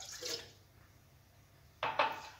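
A glass of warm milk is poured into flour for dough, giving a brief splashing trickle at the start and another short burst of liquid pouring and sloshing near the end, with a quiet lull between.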